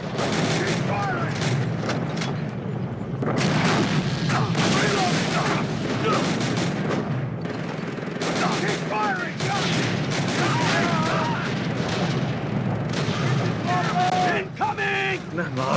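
Call of Duty tank battle in Hunner Park, with dense, continuous gunfire, rapid bursts and heavy booms close by throughout. Shouting voices cut in over the shooting.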